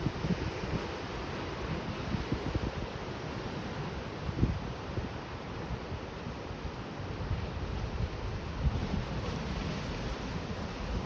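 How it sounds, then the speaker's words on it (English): Pacific Ocean waves breaking against rocks at Tofino, heard as a steady, broad roar of surf blended with gusting wind noise on the microphone, with no talk. "you can see those waves crashing."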